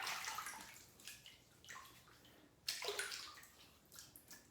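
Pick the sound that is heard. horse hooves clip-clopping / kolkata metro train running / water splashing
water splashing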